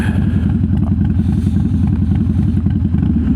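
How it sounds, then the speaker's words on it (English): Harley-Davidson Dyna motorcycle riding at midday, a steady low engine drone with rumbling, continuous and close throughout, no voices. "I am riding the Dyna today"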